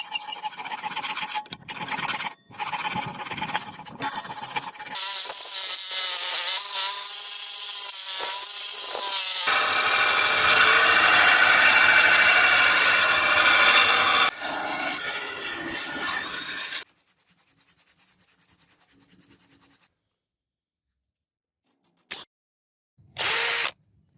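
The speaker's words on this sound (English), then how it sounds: "The blade is then meticulously sanded on a belt sander." A belt sander grinds a rusted Japanese katana steel blade with a loud, shrill, whining scrape in bursts, then cuts off into near silence broken by a few faint knocks.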